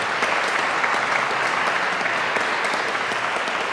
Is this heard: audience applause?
yes